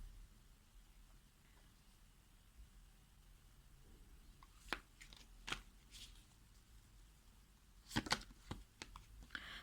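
Tarot cards slide and snap as one is drawn from the deck, quiet close rustles giving way to a few sharp crisp flicks and a cluster of papery snaps near the end.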